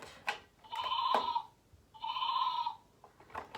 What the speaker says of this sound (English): Ooh, you've got a sheep.